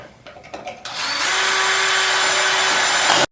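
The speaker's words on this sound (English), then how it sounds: "Now we can drill it." Power drill boring a hole through a wooden cabinet drawer face: a few short handling knocks, then a loud, steady high whine of the bit cutting wood for over two seconds before stopping abruptly.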